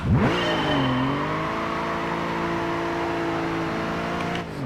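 Race-start engine revving in the Gran Turismo 5 video game: a loud, steady, sustained car engine drone that rises quickly at the start and then holds high revs, with no talking.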